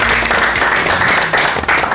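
Applause from a studio audience on a Korean Buddhist talk show, a steady broadband patter of clapping filling two seconds at moderate loudness.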